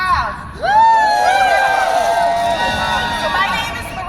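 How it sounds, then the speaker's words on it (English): A large crowd cheers, whoops and shouts at an outdoor campaign launch rally by Tweed Courthouse, a loud, sustained roar of voices that swells after the first half second and stays steady to the end. "What an amazing crowd"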